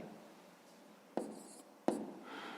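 Digits of a long division worked out by hand in a math exercise, faint pen scratching on paper with two brief sharp taps, quiet and close, no talk.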